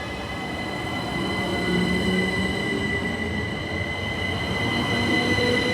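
A Southeastern class 375 electric train standing at Tonbridge on a Hastings to London Charing Cross service hums steadily with tonal whines and low rumble, a continuous near sound with no voices.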